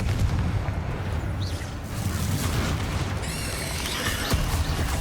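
A Confringo spell explosion in the Hogwarts Legacy video game sounds as dense, booming blasts, with continuous loud rumbling and crackling battle noise and whooshing magical effects near the end.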